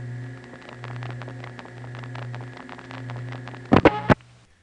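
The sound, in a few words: PCI DC signaling on a telephone trunk from a crossbar tandem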